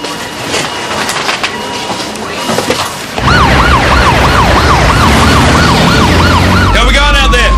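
An ambulance siren wails loud and close, its rising and falling tone repeating steadily over a heavy rumbling background after a noisy stretch.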